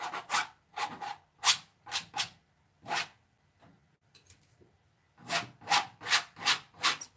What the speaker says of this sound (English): the scraping against the canvas with a palette knife